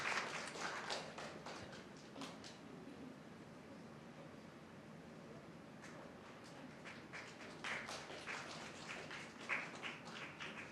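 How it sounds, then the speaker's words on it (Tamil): Audience applause at a youth talent event, a quiet, scattered patter of clapping in loose bursts from a modest crowd, fading and returning over several seconds. "அனைவரும் ஒரு கரகோஷம் எழுப்பி அவரை பாராட்டுவோம்."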